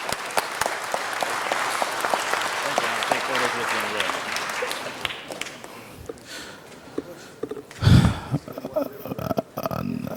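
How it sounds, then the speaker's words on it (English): A city council meeting audience claps warmly for several seconds, fading out, followed by scattered murmurs, a brief loud thump and voices in the room. "let's give him a big round of applause"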